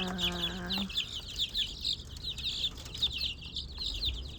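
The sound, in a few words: free-range village chickens clucking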